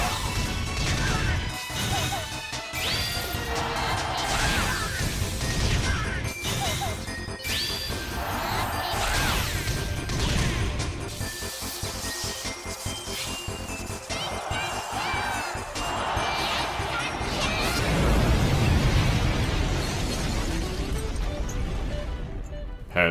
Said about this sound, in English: Mega Gengar's Curse, and Pikachu Libre's Burst Attack.